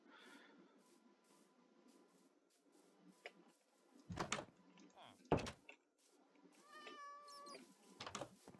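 A Minecraft cat gives a short in-game meow near the end, faint and brief amid quiet game sounds and a few sharp knocks and thumps.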